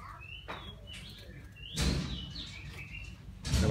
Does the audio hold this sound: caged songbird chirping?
yes